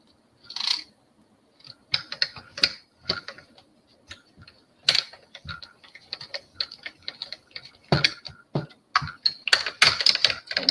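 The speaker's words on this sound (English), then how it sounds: "Now we are finished with the Stamp, Cut, and Emboss machine." A Stampin' Up! Stamp, Cut, and Emboss machine running on a craft table, giving off a quick, uneven series of close, crisp ticking clicks in bursts with short pauses between them.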